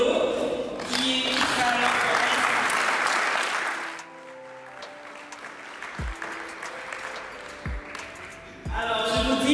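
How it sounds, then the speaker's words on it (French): An audience at a women's eloquence contest in Lubumbashi claps in sustained, dense applause that eases off midway and then swells again briefly at the end. "Je voudrais aussi qu'on remercie et qu'on applaudisse Madame Naomi Kassogo-Rego"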